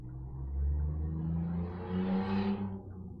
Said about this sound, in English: Yes, car outside.